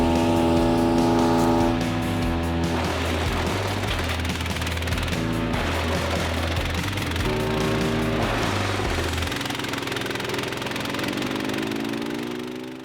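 A Split-Fire 4090 wood chipper with a Loncin engine chips pine, its loud engine roar dropping under load in bursts as branches feed through, with grinding and rattling before the engine eases off at the end.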